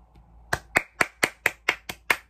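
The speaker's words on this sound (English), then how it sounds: "Hey, round of applause to me." A single person claps hands about nine times in a steady rhythm, sharp and close, with no talk over the claps.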